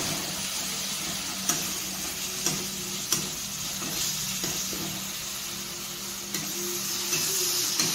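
Steady sizzling of masala spices frying in a pan on a medium gas flame, with occasional scraping clicks of a spoon stirring, close and continuous without talk.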